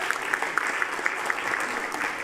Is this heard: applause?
yes